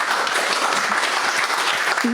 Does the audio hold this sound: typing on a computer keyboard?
no